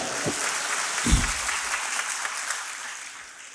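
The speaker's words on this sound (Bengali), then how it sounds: "আমরা একটা করতালির মাধ্যমে তাদেরকে অভিবাদন জানাই" Audience applause at a career guidance program in Bogura: continuous clapping from a large crowd, with a couple of low thumps near the microphone and a slight fade at the end.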